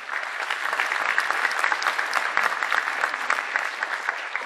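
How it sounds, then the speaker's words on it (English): Audience at a middle school holiday concert giving a round of applause, many hands clapping together in a lively, continuous patter at moderate volume. "If we can give him a round of applause,"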